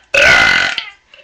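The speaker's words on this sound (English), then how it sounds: "can you give us your biggest burp ever?" A woman lets out one long, loud burp, close up and sustained for most of a second, then breaks off into a short trailing sound. No talking is heard.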